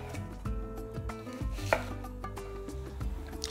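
A knife chops vegetables on a cutting board while momo filling is being prepared, producing a steady series of close, crisp thuds over faint background music.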